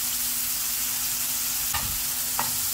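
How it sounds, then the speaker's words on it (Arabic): Chopped onion and garlic with salt fry in oil in a pan, giving a steady soft sizzle, with two brief scraping stirs of the utensil against the pan near the end; no one speaks. "هكذا نخلوه يتقلى غير شويه قبل ما يدبل ونقلعوه"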